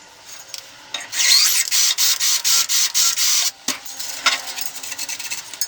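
A thread tap is worked by hand through a hole in a metal welded target stand, giving a close, rhythmic series of dry rasping strokes followed by softer scraping.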